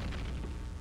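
A grenade explosion in the online shooter Combat Arms: a loud, dense burst of broadband rumble that fills the whole moment without a gap, with heavy low-end weight and no voices.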